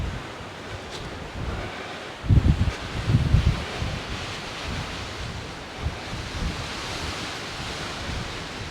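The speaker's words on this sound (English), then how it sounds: "it is a bit windy, so I may lose it" Steady wind roars and rushes across the microphone by a churchyard, with heavier buffeting gusts thumping low around a third of the way in, then settling back to a constant blustery hiss.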